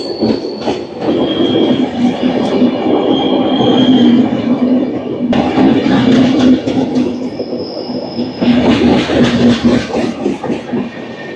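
The Hirakhand Express pulls into Koraput Junction station, loud and close, with steady wheel rumble, rhythmic clatter over rail joints and high squealing wheels rising and fading over several seconds.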